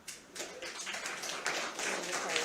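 Scattered clapping from the audience at a Michigan voter fraud hearing after a witness's testimony, a dense, moderately loud patter of many hands that grows slightly and keeps going for a few seconds.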